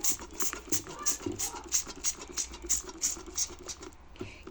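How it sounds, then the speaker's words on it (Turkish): A trigger spray bottle spritzes degreaser onto a kitchen stove in a run of short, hissy squirts. The bursts repeat in a quick, even rhythm and sound fairly quiet and close. "buraya yağ çözücümüzü sıkıyorum"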